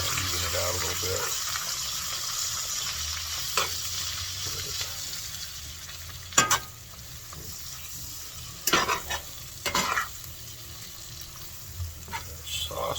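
Sizzling Mongolian beef sauce being stirred in a pan, a steady close frying hiss broken by occasional scraping and clinking of the utensil against the pan.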